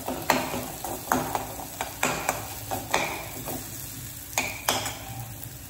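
Tomatoes fry in a pan for a whole masoor dal tadka, with a low steady sizzle under repeated clinks and scrapes of a spoon stirring against the metal.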